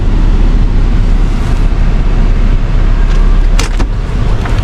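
A car idling and rumbling steadily inside a parking garage before being driven out, a constant low engine drone with a faint brief clatter near the end.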